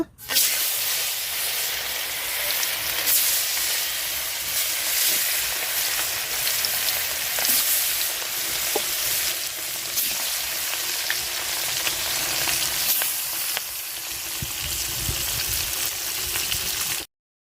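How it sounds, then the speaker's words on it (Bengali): Fish sliding into hot oil for a brinjal and snakehead fish dish, a loud, dense, steady sizzle and hiss of frying that holds evenly for the whole stretch, close by. "তো তেল গরম হয়ে গেছে, মাছ দিয়ে দিব।"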